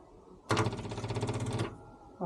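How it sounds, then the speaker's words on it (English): An electric fuel pump on a Renault R8 prototype being fitted with modern ignition buzzes loudly and steadily for about a second when powered, then cuts off, with fast rhythmic pulsing throughout. "I'm going to try the fuel pump."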